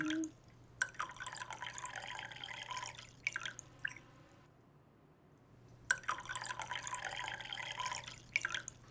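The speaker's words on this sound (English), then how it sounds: "I'm actually gonna pour us some tea." Chamomile tea trickles and drips as it is poured into cups, in two quiet stretches of liquid splashing separated by a brief pause, faint against a low steady hum.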